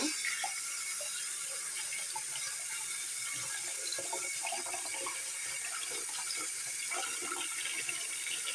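Water runs steadily from a kitchen tap to soak food ahead of cooking, a continuous close splashing with no talking.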